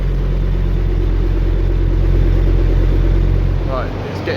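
A 5-cylinder engine in a Toyota MR2 roars steadily under load on a dyno, a loud sustained drone that winds up and then cuts off sharply near the end.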